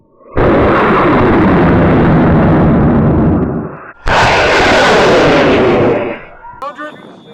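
Two high-power model rockets, one a J400 motor with dual deploy, launch at a rocket club event, each giving a loud, sustained roaring blast of several seconds, followed by faint voices.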